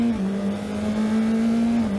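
A GB4 Championship race car at full throttle around the Donington Park Grand Prix circuit, heard onboard: a loud, sustained engine drone holding a steady pitch with a brief dip near the start, constant and close throughout.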